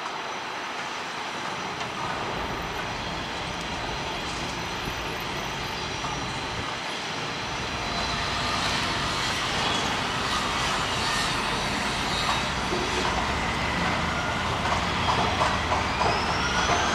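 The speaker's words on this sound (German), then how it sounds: "Der ICE fährt jetzt gerade in Richtung Berlin Zoo ab." An ICE high-speed train pulls out of Berlin Hauptbahnhof toward Berlin Zoo, heard from above. It gives a steady broadband rumble of wheels and rail noise that holds throughout and grows slightly louder midway.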